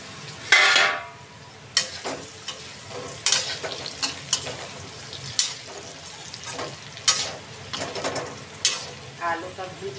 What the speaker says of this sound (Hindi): यहाँ पर मैंने घिया चढ़ा दिया है